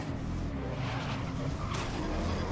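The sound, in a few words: car skidding in a spin in GRID video game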